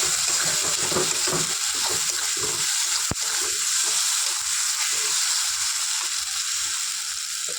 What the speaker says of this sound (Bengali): এবার আমি জল ঢেলে দিলাম।